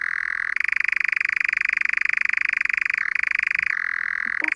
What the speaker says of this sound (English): I think it's a frog.